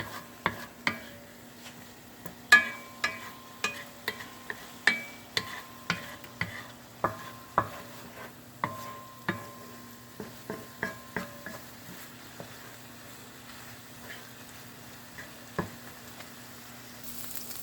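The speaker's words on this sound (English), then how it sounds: "it's really starting to blend together, the seasonings and the sauteing" Kielbasa and seasonings sautéing in a pan, a faint low sizzle under a steady series of close spatula scrapes and taps against the pan, which thin out toward the end.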